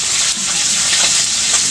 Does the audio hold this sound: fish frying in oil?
yes